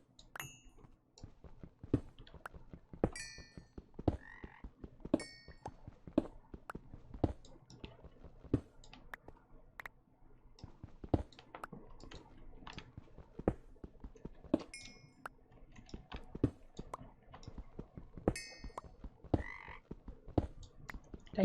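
Minecraft frogs croaking in a video game, scattered short croaks and clicky chirps repeating irregularly at moderate volume, layered with soft game ambience and occasional pinging effects.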